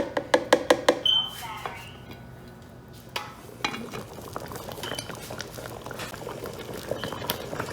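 Nigerian ogbono soup is stirred and clinked with a spoon, then its pot is covered and it bubbles softly at a low simmer, with faint patter and gentle clatter throughout.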